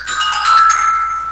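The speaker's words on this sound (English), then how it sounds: "That was my phone." A mobile phone ringtone plays loud and close, a short bright electronic melody lasting just over a second, alone, with no talk.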